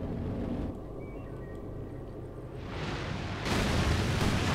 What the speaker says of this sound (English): With incendiary artillery down here.